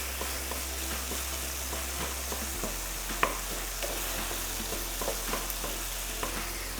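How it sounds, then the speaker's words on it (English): Turkey mince and onion frying in hot oil while being broken up, a steady close sizzle with light scrapes and taps of a utensil against the pan, no voices. "it into the oil, breaking up the pieces, allowing the onion and the oil to coat the mince strands"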